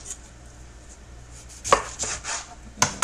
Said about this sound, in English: Give my lemon a roll, release those juices